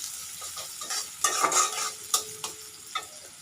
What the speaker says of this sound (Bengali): তো একটু নাড়াচাড়া করে পেঁয়াজটা একটু